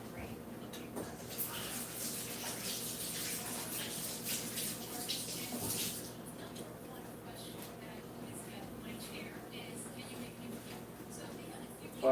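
Tap water runs steadily into a kitchen sink while hands are rinsed during cooking, a soft continuous hiss that swells with splashing and then thins out, faint and close.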